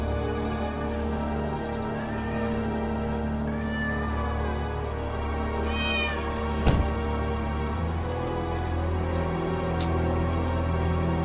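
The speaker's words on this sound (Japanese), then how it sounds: "怎么会猫的声音呢？" A cat meows several times over a steady background hum, the calls rising and falling, fairly clear and close.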